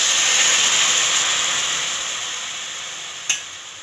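Jaggery syrup with cardamom and salt boils in a pot, giving a steady hiss of close bubbling that slowly fades, with one sharp click near the end.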